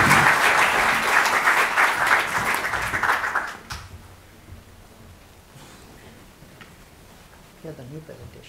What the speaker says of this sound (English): Give a round of applause, a thunderous round of applause,